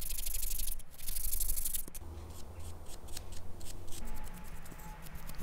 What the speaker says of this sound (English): So I give that a quick sand just by hand before applying the rest of the finish.